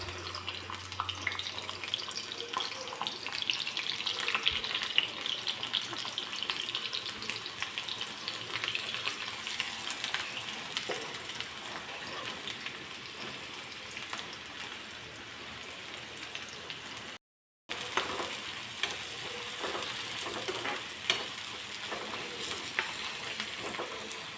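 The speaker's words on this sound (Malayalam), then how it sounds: "ഇതിലേക്ക് വഴറ്റി ചേർക്കാനായിട്ട് ഒരു സവോള രണ്ട് മൂന്ന് വെളുത്തുള്ളി ഒരു ചെറിയ കഷ്ണം ഇഞ്ചി നീളത്തിലരിഞ്ഞത് നമുക്കിവ ഓരോന്നായി ഇട്ട് കൊടുക്കാം" Sliced onion, garlic and long-cut ginger sauté in a pan for a beef bone-and-meat curry, with a steady close sizzle and frying crackle throughout and a brief dropout near the end.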